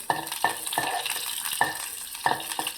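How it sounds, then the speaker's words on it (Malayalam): Shallots sauté in coconut oil with spluttered mustard seeds under a low, steady sizzle, while a spatula scrapes the pan in short, regular strokes about every half second. "ചെറിയുള്ളി നന്നായി വഴറ്റിയ ശേഷം"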